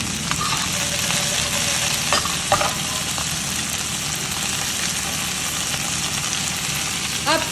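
Steady sizzling and frying of potatoes in a stainless steel nonstick pan, with a few scraping clicks of a utensil turning them, close and continuous.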